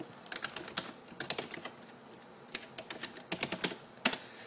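Login details are typed on a PC keyboard in quiet, uneven bursts of crisp keystrokes with short gaps, heard close and alone.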